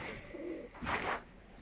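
Pigeons coo in a bird loft, a soft low murmur with one louder throaty coo rising near the end, close by and without talk.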